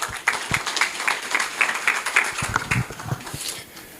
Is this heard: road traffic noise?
no